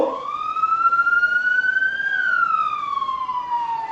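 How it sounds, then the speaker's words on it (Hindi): A police car siren wails steadily, its pitch climbing slowly then dropping, loud and continuous with no voices. "एक्चुअली में भी आपको पुलिस की गाड़ी की आवाज आ रही है"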